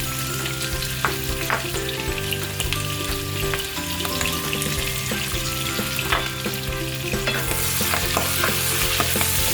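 Garlic and shallot sauté in a hot pan for monggo with bitter gourd leaves, giving a steady close sizzle broken by scraping, clinking stirs. The hiss grows brighter and louder toward the end. No one speaks.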